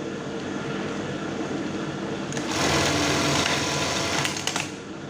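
A sewing machine with a faulty zigzag stitch that won't shift right runs steadily nearby, its motor whirring while it stitches, with sharp mechanical clicks near the end before it slows.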